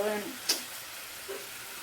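Cashews frying in oil in a home kitchen give a soft, steady sizzle with a brief louder crackle near the start, under faint background voice.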